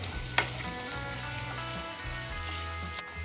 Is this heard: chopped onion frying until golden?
yes